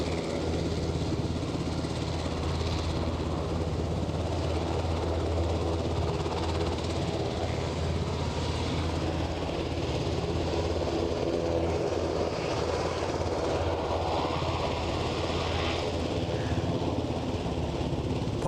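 An aircraft at Aberdeen airport finishes taxiing and takes off, heard as a continuous, loud, broad engine roar that holds steady throughout with no voices.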